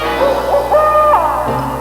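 A great snowy owl hoots in a festive forest scene, giving several smooth tonal calls that rise and fall over about two seconds, close and fairly loud, with no talking.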